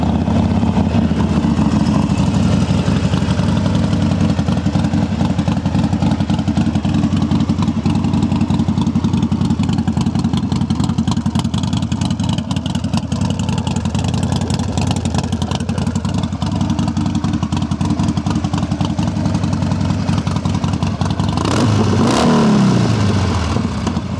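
A Harley-Davidson Sportster 1200 Forty-Eight (XL1200X) motorcycle with a V-twin engine runs loud and close with a continuous rumbling idle, then gives a brief rev near the end.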